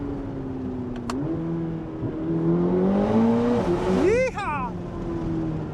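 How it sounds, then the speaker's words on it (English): A 2026 Chevy Corvette ZR1's flat-plane V8 revs and climbs through the gears, rising to a sharp high-pitched wail before settling; a voice whoops over the engine. "getting to hear from that flat plane V8 all"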